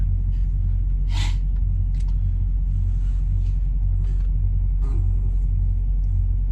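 Truck engine rumbling steadily and close, with a few brief hisses and clatters over the low drone.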